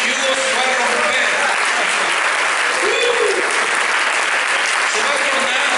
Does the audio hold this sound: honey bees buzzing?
no